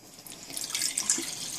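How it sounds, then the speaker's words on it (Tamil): Lentil cooking water is poured in a home kitchen while sambar is being made, a soft trickling splash that builds and wavers over a couple of seconds, close and fairly quiet. "இதில் இப்போ பருப்பு தண்ணி எடுத்து"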